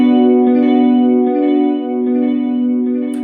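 Electric guitar through a Duophony pedal, together with a 202, holds a sustained chord with a shimmering 90s tri-chorus effect, a lush, wavering, reverb-washed tone, loud and alone.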